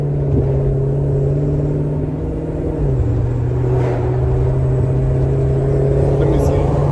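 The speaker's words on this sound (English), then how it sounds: "So Carol, low RPM, just cruising, you know, to here. But then once it get some load on it," A rebuilt Dodge Charger engine drones steadily while driving under load, a loud continuous low rumble with a slight pitch shift partway through, heard from inside the car.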